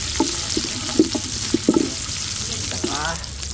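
Onions and ginger frying in a pan while being stirred, a continuous close sizzle broken by scraping clacks of the utensil against the pan.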